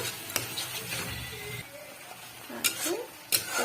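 A paste of coriander, ginger and garlic frying in oil for matar nimona, with a moderate sizzle broken by spoon stirs and a few sharp clinks against the pan, while a voice talks over it.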